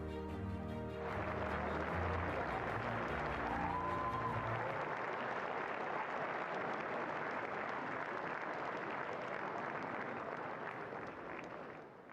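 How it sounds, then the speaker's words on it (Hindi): An auditorium audience breaks into sustained applause, a dense, even wash of many hands clapping that swells after a brief musical lead-in and holds steady at a moderate distance. "तालियों की गड़गड़ाहट से स्वागत करें"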